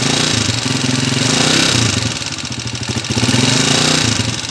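A motorcycle engine idles loud and close with a fast, steady ticking from a worn timing gear and cam follower. The rumble stays even, easing slightly before picking up again, with no voices.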